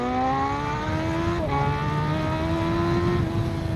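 A Suzuki GSX-R 1000 motorcycle accelerates hard with short shifting. Its engine pitch climbs, drops briefly at each quick gear change, then climbs again, loud and close, under constant wind noise.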